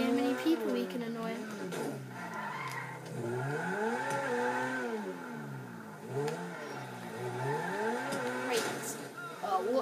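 A Turismo R supercar tears around in the GTA 5 video game, its engine loudly revving up and falling back in repeated swooping waves, with a steady roar throughout.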